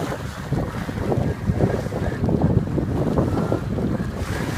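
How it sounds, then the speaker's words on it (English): Steady wind roars around a single-handed sailboat under sail in 2 to 3 foot waves, with low rumbling buffeting on the microphone and water wash, continuous and loud with no talk. "The wind's just picked up nicely."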